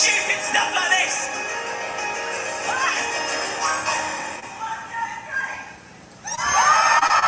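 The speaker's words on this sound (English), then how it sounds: "you get a roaring round of applause" A large crowd roars with cheers, applause and shouting voices, dips briefly to a quieter lull, then surges back to full loudness.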